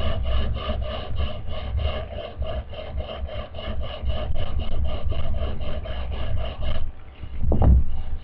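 A sanding block rubs back and forth along the wood grain of a Marlin Model 60 rifle stock, making steady rhythmic rasping strokes, close and loud, ending with a brief knock.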